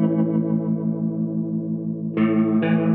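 Electric guitar run through a Strymon Lex rotary speaker simulator pedal, a sustained chord with a swirling, chorus-like wobble and fuller bright strums near the end, loud and close with no talking.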